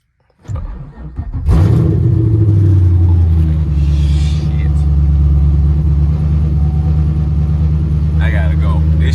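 Camaro SS with an aftermarket exhaust starts up and settles into a loud, deep, steady rumbling idle and drive, dominating throughout.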